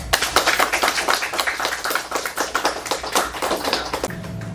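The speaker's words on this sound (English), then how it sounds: "please give her a round of applause" A small audience claps for a speaker: close, sharp individual handclaps in a quick irregular patter, fairly loud and without speech over them.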